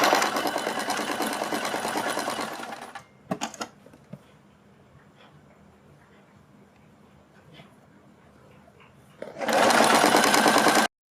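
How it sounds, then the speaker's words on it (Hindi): Sewing machine stitching the hem of a kurti, sounding in two loud, steady runs at the start and end with a quiet pause of faint handling noises between them. "और उल्टी तरफ से अब हम इसके ऊपर सिलाई लगाएंगे।"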